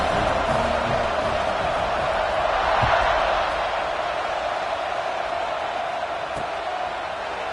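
A virtual stadium crowd in College Football 26 keeps up a steady, distant roar through a kickoff, with a brief swell midway and faint thumps beneath it.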